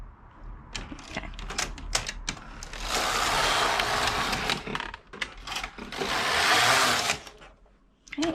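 A motor drives a Passap E6000 knitting machine carriage, giving busy clattering and rattling mechanical bursts with two longer, steadier whooshing passes, close and moderately loud.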